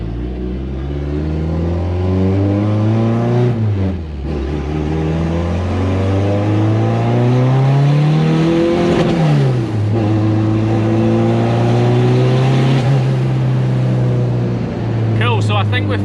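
A turbocharged car with a welded differential accelerating hard during a test pull, boosting past 2 bar: a loud, close engine that climbs steadily through the gears with clear shift dips, while a voice speaks over it.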